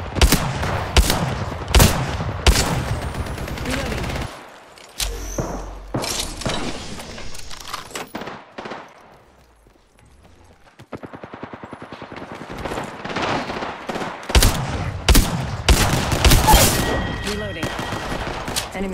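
Gunfire in the video game Apex Legends: rapid bursts and volleys of shots with sharp cracks, a short lull midway, then heavy firing again, with occasional voice lines.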